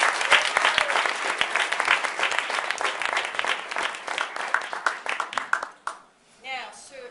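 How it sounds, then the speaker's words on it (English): An audience claps at a food-related tribute event, dense applause that holds for about six seconds before fading out, with voices mixed into the crowd. "So she deserves another round of applause."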